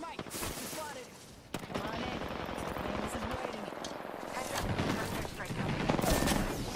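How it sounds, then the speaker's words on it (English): Airstrike explosions and gunfire in the battle royale game Apex Legends: rapid bursts of shots and thudding blasts roll on continuously, growing denser toward the end. "Whoa, is that your airstrike?"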